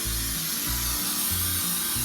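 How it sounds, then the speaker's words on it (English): Baker's Choice baking spray hisses from an aerosol can into a bundt pan in a home kitchen: one continuous close hiss lasting about two seconds over a low, pulsing hum. "And I'm going to spray my bundt pan with baker's choice."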